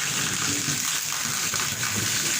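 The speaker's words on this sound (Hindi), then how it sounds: "ये देखो कितनी तेज़ बारिश हो रही है, बहुत तेज़" Heavy monsoon rain pours in Lahore, a dense steady hiss of water falling and splashing close by, loud and continuous with no talk.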